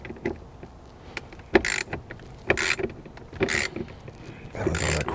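A hand ratchet working a 10 mm bolt on a 2015 Jeep Grand Cherokee WK2 front door, heard as short bursts of rapid clicking with metallic clatter between quieter pauses, close up.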